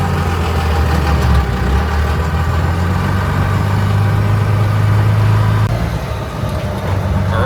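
A truck engine rumbles steadily at low speed nearby, idling and rolling slowly as it pulls into a shop parking lot, with a slight dip in the drone near the end.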